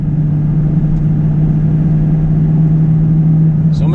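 Derringer-tuned L5P Duramax diesel pickup accelerating hard up a grade, a loud steady engine drone with a strong sustained hum from inside the cab, no voices.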